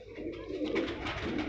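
A breeder pigeon of the poisonous (zehrila) breed coos in a short, soft, low run of rolling calls, close by and alone.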